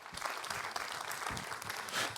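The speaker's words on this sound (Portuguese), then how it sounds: "Uma salva de palmas para o professor" Applause greets a speaker being introduced at an evening talk on Eastern Christian spirituality, a steady wash of many hands clapping that continues without a break for about two seconds and swells slightly near the end.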